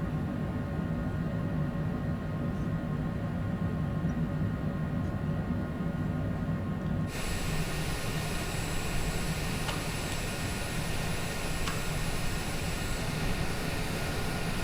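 A small propeller airplane taxis at Gunnison airport, Colorado, its engine droning steadily close by and continuously, with no breaks and no voices.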